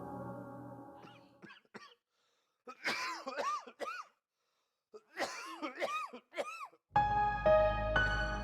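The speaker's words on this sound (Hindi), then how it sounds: "इतने दिन हो गए आपको खांसते हुए।" A person coughs repeatedly in short, harsh bursts with pauses between fits, close and fairly loud, followed by a soft voice and a tonal music sting at the end.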